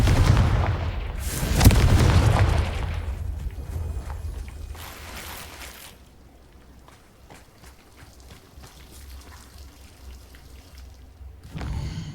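A Confringo fire spell in the video game Hogwarts Legacy bursts in one loud blast near the start. A rumbling, crackling tail follows and fades into quiet ambience, with a short swell at the end.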